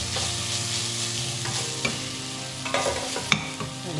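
Ginger sizzles steadily as it fries in a pan for a Karaikudi chicken pepper gravy, with a spatula stirring through it and occasional sharp scrapes and clicks against the pan.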